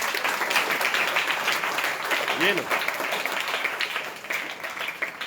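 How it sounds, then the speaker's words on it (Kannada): Students at a camp clapping together, a loud continuous round of applause filling the room, with a voice briefly speaking over it midway. "ಸೊ ಜೋರ ಚಪ್ಪಾಳೆ ತಟ್ಟೆಪ್ಪ."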